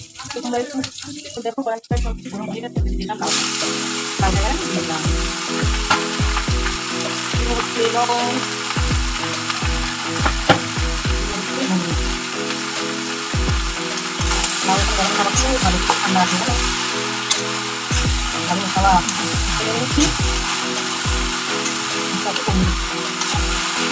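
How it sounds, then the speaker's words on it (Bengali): Panch phoron and green chillies frying in a wok, a loud steady sizzle close by with repeated knocks and scrapes of a spatula, and some voices in the background. "পাঁচ ফোড়ন কাঁচা লঙ্কা দিই"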